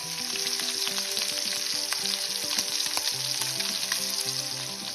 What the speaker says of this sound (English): During the searing process, make sure that you don't touch the steak until you are ready to turn it to the other side.